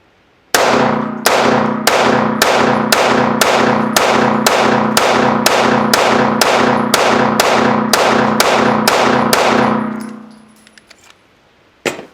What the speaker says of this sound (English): This is one of the smoothest shooting 2011 style 1911s that I have ever fired.